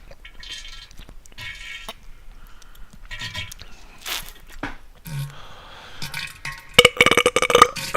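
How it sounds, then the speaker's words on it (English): A few short belches, after drinking water, break a quiet stretch, followed near the end by a louder run of rapid, rough bursts. "Even my burps suck."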